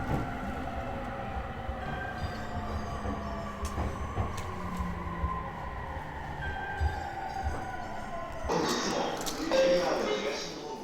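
Shinkansen bullet trains at Tokyo Station rumble and whine along the platform amid steady station hum, with tonal electric motor notes and a louder surge near the end; voices are heard in the background.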